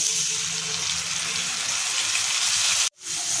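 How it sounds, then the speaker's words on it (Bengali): Onion and soaked spice paste hit hot oil for a fish curry, sending up a loud, continuous hissing sizzle that breaks off abruptly near the end before resuming, with no talk. "খুব সামান্য একটু কাঁচা পেঁয়াজ দেবো আর দিয়ে দেবো ভিজে রাখা মশলাটা"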